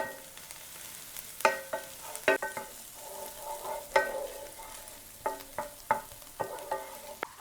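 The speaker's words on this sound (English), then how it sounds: "Stir around our veggies" Vegetables for a skillet chicken pot pie are stirred in a skillet, a spoon scraping and clinking against the pan in irregular bursts over a light sizzle.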